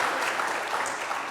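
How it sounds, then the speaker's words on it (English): Studio audience applause for a visiting TV reporter on a chat show, a steady wash of many hands clapping throughout at close range. "how about a big round of applause, Mr. Mike Watkiss?"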